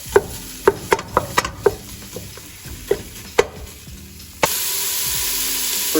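A whole pound of food for zuppa toscana drops into a hot pot after a series of sharp clacks and taps, then sizzles loudly and steadily, close up, with no talking.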